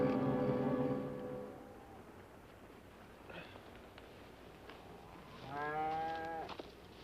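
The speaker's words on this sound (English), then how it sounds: "We can handle the cattle alone" Cattle lowing outdoors on an open range: a long, deep moo at the start, then a second drawn-out, wavering moo a few seconds later, heard at moderate distance with no talking.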